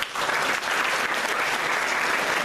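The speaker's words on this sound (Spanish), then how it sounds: "Un aplauso, por favor." Audience applause at a teachers' organization colloquium, a continuous dense crowd clapping that holds at a steady, moderately loud level throughout.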